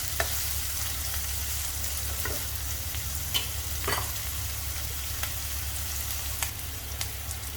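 Okra frying in a pan sizzles steadily up close while a spoon stirs it, with scattered scraping clicks over the constant hiss.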